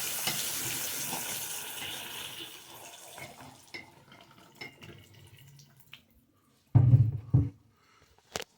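Tap water running hard into a sink during a DIY toilet sprayer installation, a loud steady rush that fades into scattered drips and clunks, then two short bursts of flow near the end.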